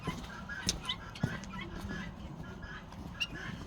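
Roosters and geese on a Turkish farm raising Çorum geese give scattered short calls and honks over a low murmur of activity, with a few sharper squawks standing out at moderate distance.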